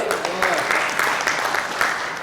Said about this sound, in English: Give her a clap, please